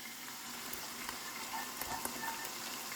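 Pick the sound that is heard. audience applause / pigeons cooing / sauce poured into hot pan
sauce poured into hot pan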